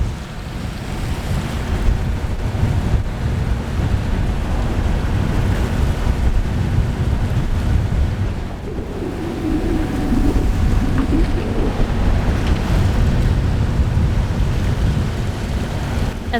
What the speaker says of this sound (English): As we left the protection of the anchorage, we experienced some pretty strong winds and swell.